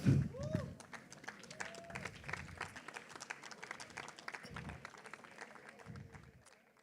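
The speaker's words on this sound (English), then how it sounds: "Can we get a round of applause?" An audience applauds event helpers called onto the stage at an award ceremony, a scattered round of clapping with cheers and talking over it that fades toward the end.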